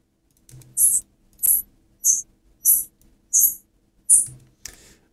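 Six short, high-pitched squeaks made from processed towel sounds, imitating bats, arrive in a quick irregular series with brief gaps, fairly loud and close, ending with a softer rustle.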